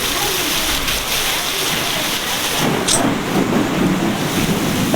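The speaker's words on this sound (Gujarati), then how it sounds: "એટલો વરસાદ આવે એટલો વરસાદ આવે આખું બધું પીલી ગયું" Heavy rain pours down steadily during a storm in Gujarat, a dense, continuous hiss of water mixed with gusty wind roar that never lets up.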